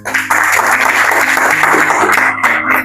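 An audience at an English-speaking course closing ceremony applauds their teacher, a dense burst of many hands clapping loudly and close, sustained for a few seconds with a faint voice underneath.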